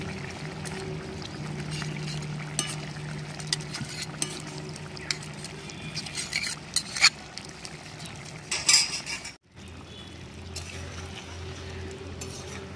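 Roasted ground cumin paste worked into a simmering Katla fish curry with potato, bori, tomato and spinach, soft liquid sloshing and intermittent spoon knocks against the pot, building to a few louder clatters before a sudden cutoff.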